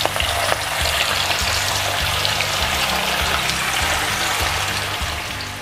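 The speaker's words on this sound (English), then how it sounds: "Our oil is ready, so reduce them to medium high, and here come our fish." Salmon pieces deep frying in a pan of hot oil at medium-high heat give a loud, dense, continuous bubbling sizzle from start to finish, with light clatter underneath.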